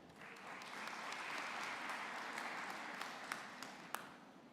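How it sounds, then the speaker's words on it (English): A university graduation audience applauds steadily in a large room, a dense wash of clapping with a few louder individual claps standing out near the end. "ask the audience to give you a round of applause for the great work you have done"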